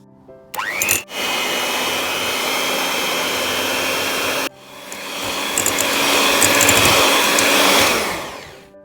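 An electric hand mixer whirs loudly as it beats cream cheese and sugar. The motor spins up, cuts out briefly and restarts, then runs with a rising, fluctuating whine and fades near the end.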